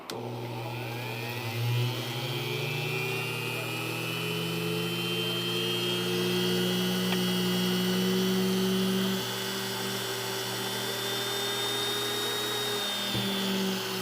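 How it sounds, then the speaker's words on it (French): A drill boring holes while a surge protector is being installed: a steady whining tone that holds for the whole stretch, rising slightly in pitch, close and continuous with no talking. "Allons-y avec le perçage des trous."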